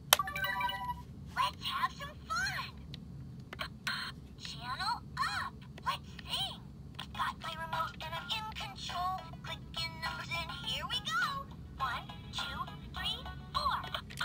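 A Fisher-Price kids' toy TV remote gives off a run of short electronic beeps, chirps and tones in quick bursts, and a person talks quietly underneath.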